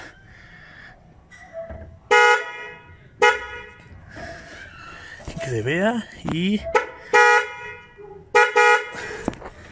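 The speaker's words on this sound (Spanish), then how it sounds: "al hacerle contacto va a sonar o tiene que sonar el claxon" A newly installed car horn honks in several short, loud blasts at irregular intervals, with a dog barking and a person talking in between.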